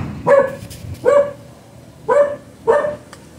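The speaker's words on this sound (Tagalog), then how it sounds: "Ang aking aso ay gigil na naman" A dog barks four times, close and loud, in short separate bursts with brief pauses between them.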